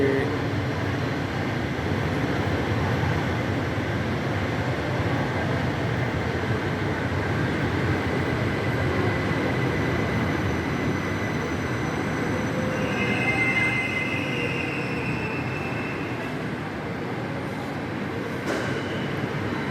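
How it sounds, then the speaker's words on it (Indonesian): A light rail train rolls into a station platform in Jakarta, a steady rumble of wheels on track with brief high squeals as it slows at the platform. "itu tuh di jalur 1 masuk kereta api LRT-nya"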